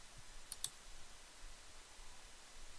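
Two quick, faint mouse clicks close together against quiet room tone.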